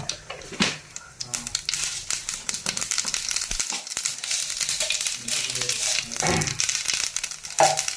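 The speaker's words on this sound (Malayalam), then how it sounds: "കടുക് പൊട്ടിക്കുക" Mustard seeds splutter and crackle in hot oil while tempering mango pulissery, a dense stream of sharp pops and sizzling running steadily throughout at close range, with no talk.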